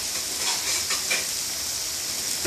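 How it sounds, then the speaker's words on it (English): Steady sizzling hiss of chopped garlic frying in hot vegetable oil in a frying pan, close and even, with faint crackles rising now and then. "the chef has tipped some vegetable oil and some chopped garlic"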